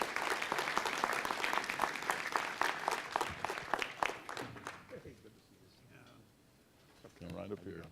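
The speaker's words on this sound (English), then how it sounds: "Give him a nice round of applause." An audience at a Las Vegas city council meeting claps in a strong round of applause lasting around five seconds, then it fades away and a voice begins speaking close by.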